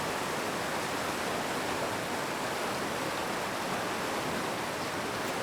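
The Savage River in Denali, Alaska, rushes steadily as a dense, unbroken wash of flowing water that holds an even level from start to finish, with no voices.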